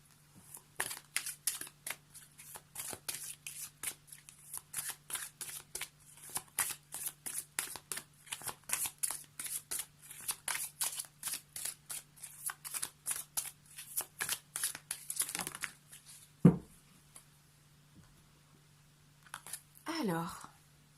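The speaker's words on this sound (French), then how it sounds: "on va terminer avec une petite carte des murmures de Ganesh" Tarot oracle cards from a Ganesh deck are shuffled for a long stretch, a rapid, steady patter of riffling clicks close by. A thump follows, then a short rustle near the end.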